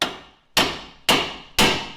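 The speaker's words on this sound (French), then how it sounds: "Je vais essayer de compenser avec le marteau." A hammer strikes a stuck front wheel bearing part on a Mitsubishi Colt four times at a steady pace, each blow loud, close and metallic, with a ringing decay.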